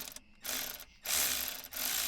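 A ratchet socket wrench clicks rapidly in three close, loud bursts separated by short pauses, working on a Toyota MK4 Supra with a turbo engine in a garage.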